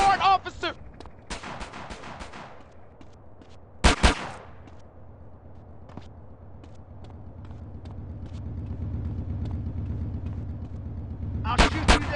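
Scattered gunshots in the video game GTA San Andreas, a few sharp cracks at the start, a loud pair near four seconds and another burst at the end, over a low rumbling engine-like drone that swells midway.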